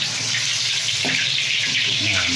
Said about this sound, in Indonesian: Kita tinggal kasih air. Airnya secukupnya saja.